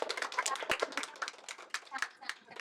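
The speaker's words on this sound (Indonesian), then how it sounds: "Tepuk tangan dulu nih Kak." Quick bursts of hand clapping from a small group, uneven and close, mixed with chatter and voices talking over it.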